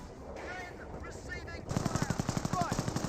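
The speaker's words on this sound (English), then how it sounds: "Panzer Grenadiers receiving quite a bit of fire from this Bren carrier" Rapid machine gun fire from a Bren carrier in the Company of Heroes video game rattles in a quick regular burst during a battle, following a stretch of softer combat noise.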